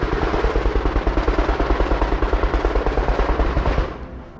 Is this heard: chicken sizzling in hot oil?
no